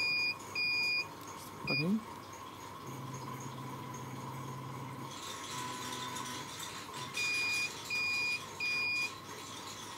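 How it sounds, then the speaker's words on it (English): Short electronic beeps from a Unico 2800 UV/VIS spectrophotometer repeat in clusters of three at the start and again near the end, over a low hum, with a brief spoken phrase in between. "We hear beep sound 3 times"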